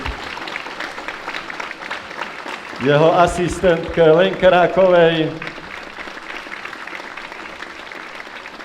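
A live audience applauds a sound engineer at a Slovak charity event, bursting into loud, dense clapping for about two and a half seconds, with a presenter talking over the scene before and after.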